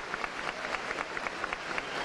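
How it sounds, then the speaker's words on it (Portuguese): Crowd applause fills a gymnasium during a wake, a steady dense patter of many clapping hands with rhythmic peaks, sustained throughout without voices. "nesse momento todo o ginásio, o Ronaldão aplaude essas homenagens"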